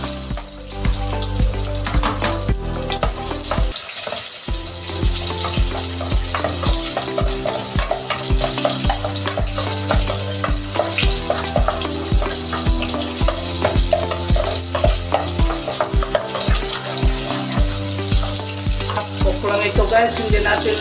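Garlic and ginger sautéing in a pan for squid adobo with tomatoes, a loud continuous sizzle with stirring scrapes close by and a brief lull early on.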